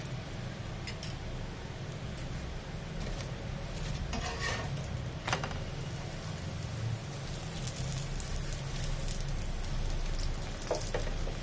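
A pitai paratha fries in a pan as a little oil is spooned around its edges, giving a steady, close crackling sizzle that runs throughout, with a few light metallic clinks from utensils.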